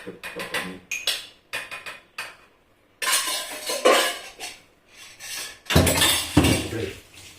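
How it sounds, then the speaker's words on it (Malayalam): Dishes clink and clatter in irregular bursts, with cutlery rattling and running water rushing in between, close by with no talking. "പാത്രം കഴുകലാണ് നീ അടുത്തൊരു കാര്യം"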